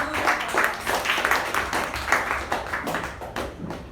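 An audience at a Toastmasters meeting claps steadily, the applause dense and continuous with no speech over it.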